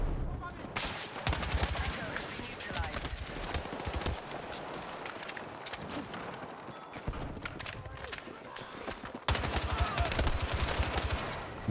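Carbine SMG build firing in Battlefield 6, with dense rapid bursts of automatic gunfire running through most of the stretch, loud and close, mixed with game effects and some talk.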